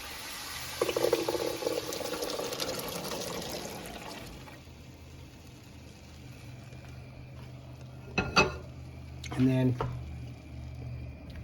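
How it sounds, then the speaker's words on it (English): Garbanzo beans and their water are tipped from a bowl into a cooking dish over a flame, giving a wet, sloshing pour that fades, followed by a couple of short splashy clatters near the end. "we take the entire bowl of the garbanzo beans and the water, and we're going to add it into this"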